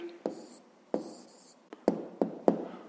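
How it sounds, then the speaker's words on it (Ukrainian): Pen writing an answer on paper while solving a fifth-grade maths equation, heard as a series of short scratchy strokes and taps, fairly close and fairly quiet, with no talking over them. "Ну що ж, записуємо відповідь."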